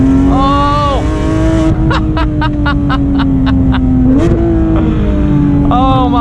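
A 2019 Porsche GT3RS engine screams loud and close at high revs under acceleration, the pitch climbing steadily with quick upshift blips, while a voice exclaims over it.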